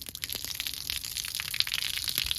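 Water splashes and trickles out of a Chevrolet Tahoe tail light housing, a short, close, uneven gushing with small drips and spatters, no talking.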